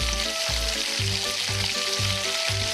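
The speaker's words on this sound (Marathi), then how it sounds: "कांदा ब्राऊन होईपर्यंत परतला आहे आणि त्यात लगेच गेले टोमॅटोचे रंगीत तुकडे" Onion and tomato pieces fry in a pan for Indian-style pasta made from leftover paratha: a loud, steady sizzle heard up close, with a rhythmic tonal pulse repeating about twice a second underneath.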